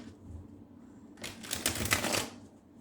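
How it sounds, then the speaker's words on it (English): A Light Seers Tarot card deck is riffle-shuffled up close, a dense burst of rapid papery flicks lasting about a second and a half after a quiet start. "That's terrible shuffling out there."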